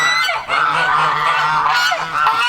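Geese honking in their own pen on a farm, with loud, close, repeated nasal honks overlapping continuously and no voices.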